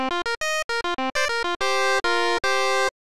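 An FM synth set to a 9-to-1-to-1 ratio plays a quick string of bright, buzzy notes at varied pitches, then three longer, denser held tones with short gaps between them. Loud, clean and alone.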